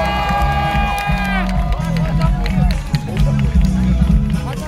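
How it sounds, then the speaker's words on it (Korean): A crowd at an outdoor company autumn sports day cheers and claps to welcome a guest, a loud continuous roar over booming PA music, with an announcer's voice over the top. "박수 함께 함성을 맞으세요."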